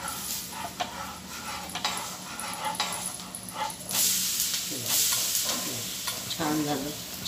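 Cucumber dhirde batter sizzles in oil on a pan, a steady frying hiss with occasional scraping and a few faint dog whimpers in the background.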